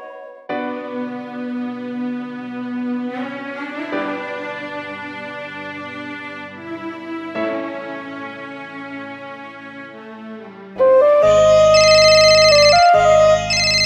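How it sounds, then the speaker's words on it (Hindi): A melodic phone ringtone plays alone, a sustained electronic tune shifting between notes, then jumping to a louder, brighter burst near the end. "गौतम का फोन"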